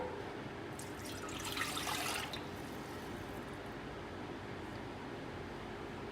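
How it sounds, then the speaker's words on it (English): Liquid poured into a breadmaker's bread pan, a short trickling splash rising briefly near the start over a steady low room hum, then quiet background. "You can pour that straight into"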